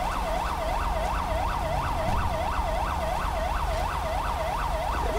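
An ambulance siren in GTA V with LSPDFR, a loud, continuous wailing yelp that rises and falls in quick regular sweeps, alone and steady throughout.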